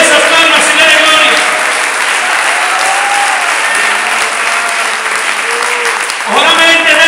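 Congregation in a church claps loudly and continuously throughout, the sustained applause running beneath a voice that sings or speaks over it, with a brief dip near the end before the clapping and voice return.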